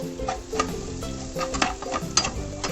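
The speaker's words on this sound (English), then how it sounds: "Now I'll add chopped onions." Chopped onions go into a hot pan and are stirred, giving a soft, close sizzle broken by irregular clatters and taps of the spoon against the pan, with no voices.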